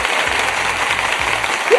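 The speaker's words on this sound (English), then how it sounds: "Let me give you the big applause." An after-show audience claps for the best outfit, steady applause running throughout with a low hum beneath and a brief voice-like sound at the end.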